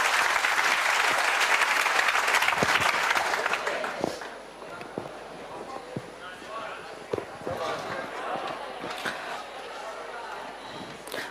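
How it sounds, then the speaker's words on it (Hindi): Audience clapping at a coaching centre motivational session in Sonipat, a dense burst of applause for about four seconds that thins into scattered claps and crowd noise with voices underneath. "चलो ताली बजाओ पहले सर के लिए।"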